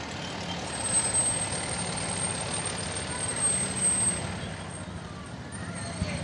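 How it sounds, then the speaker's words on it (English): A fire department pumper truck rolls past in a Memorial Day parade in Royal Oak, Michigan, a broad steady engine and road rumble swelling and easing at moderate distance, with a thin high whine running above it. "The vehicle we see coming up here is a pumper truck."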